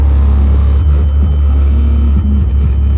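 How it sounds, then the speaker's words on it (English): A Tesla's premium-audio subwoofer blasting with all windows closed, heard from outside the car as a loud, continuous, deep booming rumble with shifting bass notes that shake the body. "Windows are closed and the subwoofer is just killing it right now."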